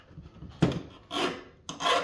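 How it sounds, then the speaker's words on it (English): A hand file rasps across the rakers of a Ryobi chainsaw chain during maintenance, heard as three short, gritty strokes with brief pauses between them, close and fairly quiet with no talking. "So I'm going to file them down."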